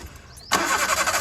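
A 1999 Maruti Zen car engine starts after an air intake hose replacement. A short quiet lead-in is followed by an abrupt catch into a steady, fairly loud idle.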